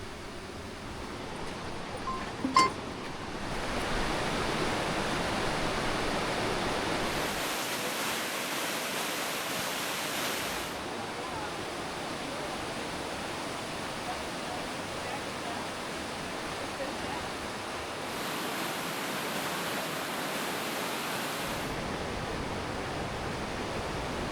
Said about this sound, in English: Following the stream, we come to the Partnachklamm